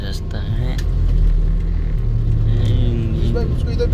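A steady low engine rumble fills the cabin of a moving car travelling at night, constant and fairly loud, with faint voices mixed under the drone.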